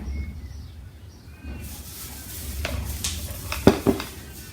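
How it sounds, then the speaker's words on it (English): A spoon stirs a wool dye mixture of blue dye, clear dye and vinegar, giving soft swishing and a couple of sharper clinks near the end, faint and close with no talk. "Give it a stir."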